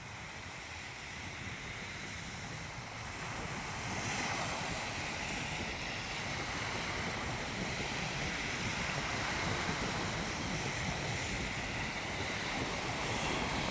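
Continuous roar of sea waves washing in at Okha port, Gujarat, mixed with steady cool wind buffeting the microphone, with no voices.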